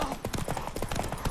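Roach the horse's hooves clip-clop in a quick, steady gallop rhythm in The Witcher 3, close and clear, with some game noise mixed in.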